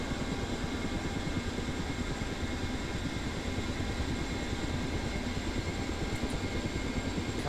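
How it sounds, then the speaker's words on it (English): A Ka-50 Black Shark helicopter engine spools up in the DCS World flight simulator, a continuous dense whine and rumble holding steady and loud, with a rapid rotor-like flutter throughout. "As you can hear it spooling up."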